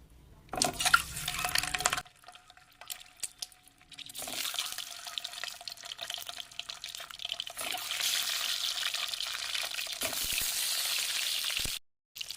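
Eggs frying in hot oil in a pan, a bright steady sizzle close by, starting with a loud splattering burst, dropping away briefly, then building into a sustained crackle with stirring clicks.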